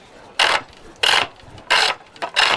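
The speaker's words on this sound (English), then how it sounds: "So this is a roughing out gouge, deep scallop to it for taking out the rough work." A deep-scalloped roughing-out gouge cuts wood on a pole lathe, giving four rhythmic rasping bursts with short pauses between strokes, close and fairly loud.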